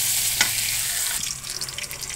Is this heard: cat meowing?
no